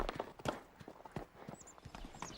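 Horse hooves clop on a rough, challenging trail during an endurance ride, irregular hoof strikes at close range, fairly quiet and with no talking.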